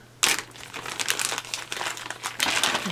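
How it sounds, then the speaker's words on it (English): A camo-patterned plastic Ziploc bag being handled close up, with sharp crinkling bursts and rustles that come in irregular waves, loudest at the start and again near the end. "Oh, it's a Ziploc bag. Okay, cool. Camo Ziploc bag."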